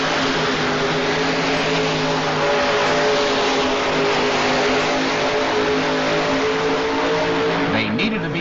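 The Banner Brothers Mr. Chevy tractor pulls in the 11,000-pound Unlimited class at a 1988 indoor tractor pull, a loud, continuous engine roar with a steady droning tone that shifts near the end.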